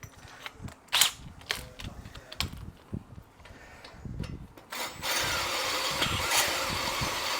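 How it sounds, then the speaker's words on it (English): Scattered sharp clicks and knocks come first, then a power drill starts up near the end of a seat job on a Mercedes 300SL Gullwing. It settles into a steady, moderately loud whir for the last few seconds. "Oh, look at that, that's a good drill,"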